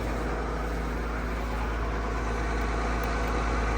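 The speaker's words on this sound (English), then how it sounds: "I'll drive right up into that, almost right in the alley with the tractor" A tractor engine idles at a steady, loud, close drone while it drives toward a cattle pen and alley, its low rumble unbroken and unchanging.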